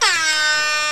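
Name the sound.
air horn sound effect in a video game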